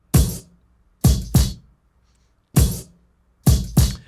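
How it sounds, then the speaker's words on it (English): Five punchy sampled kick drum hits from the SWV song "I'm So Into You" play in an uneven pattern, loud and close, each with a sharp attack and quick decay, and silence between the hits. "Kick number one sounds like a sample and sounds like this."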